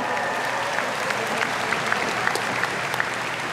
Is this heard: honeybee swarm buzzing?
no